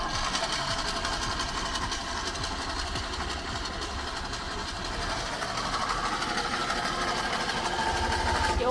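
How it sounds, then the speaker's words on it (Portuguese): A Fiat Uno engine idles roughly while its carburetor floods, a steady close mechanical chatter with uneven, sputtering pulses running continuously throughout. "Só que tá afogando, então vou ter que dar uma mexida aqui no carburador."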